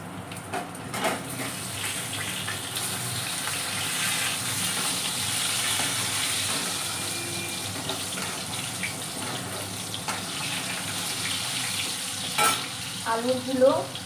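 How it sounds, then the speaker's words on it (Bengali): Potatoes drop into hot oil in a pan and fry with a steady, close hiss and crackle, a few stirring scrapes and clinks near the start and end, with a brief burst of louder spattering late on. "এটার মধ্যে আমি আলুগুলো আগে ছেড়ে দেবো"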